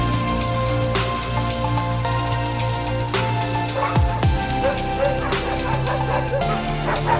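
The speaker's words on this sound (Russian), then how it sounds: "Здесь у нас взрослые собаки." A pack of Yakutian laika sled dogs barking, yelping and whimpering together outdoors, many overlapping excited barks close by, with a brief rising whine midway.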